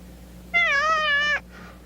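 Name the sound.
cat meowing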